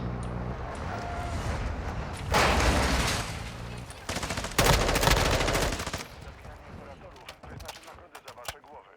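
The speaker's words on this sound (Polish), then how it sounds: "Na górce, strzały." Bursts of rapid gunfire in a video game (DMZ) crackle in several volleys, some sustained like automatic fire, with scattered single shots and voices talking underneath.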